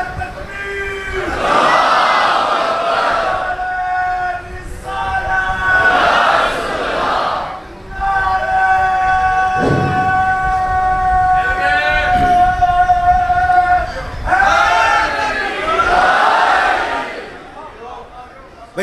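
A large gathering at a Muharram majlis in an imambargah answers a called Takbir slogan with loud, massed chanted shouts, several bursts in quick succession, with a single voice leading the calls between them.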